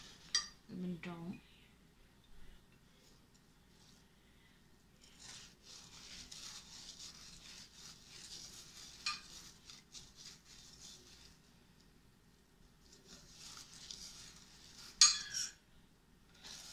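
Sweet rice flakes being mixed in a bowl for a vegan cốm dẹp trộn dừa, soft scraping and stirring with occasional clinks of a utensil against the bowl, faint and close.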